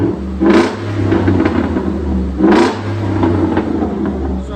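A 2012 Ford F-150 with a 5.0L Coyote V8 breathing through a Borla ATAK exhaust, blipped twice into sharp, loud revs that settle back to a deep, steady idle rumble.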